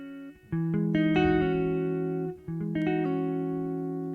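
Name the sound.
guitar major 9th chord with pinky pull-off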